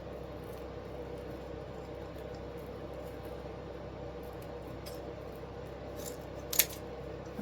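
Scissors snip the end of a ribbon while a bow is being made from household bits and bobs, a quiet close cutting over a soft steady room background with one sharper snip near the end.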